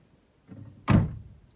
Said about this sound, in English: See how good that door closes?